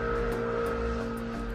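Motorcycle engines drone steadily nearby with a buzzing, harmonic hum, loud and continuous throughout the brief moment.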